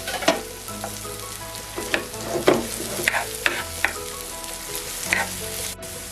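Ripe plantain pieces sautéing in ghee for a Malabar kaypola snack: a continuous soft sizzle with scattered utensil taps and stirring scrapes throughout, close up, with no talk.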